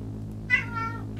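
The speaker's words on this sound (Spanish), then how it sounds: "Oh, qué gato más bonito." A cat in the Spanish point-and-click adventure game Bud Tucker in Double Trouble gives a single short meow over a steady low background hum.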